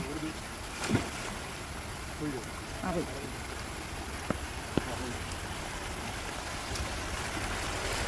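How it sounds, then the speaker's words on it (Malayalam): Fast, swollen stream running after heavy rain, a steady broadband rush of water that continues throughout, with a few faint voices and small knocks over it. "അയ്യോ നല്ല ഒഴുക്കുണ്ടല്ലേ"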